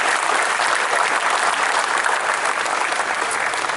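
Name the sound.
applause for the Ohio State statue unveiling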